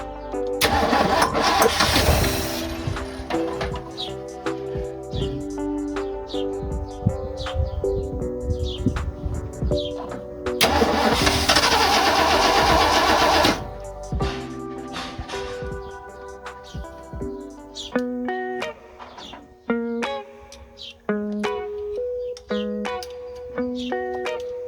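A 1986 Ford F250 engine cranking and catching, with two bursts of loud starter grinding followed by a rough, uneven idle that stumbles and pulses, close and loud, no talking.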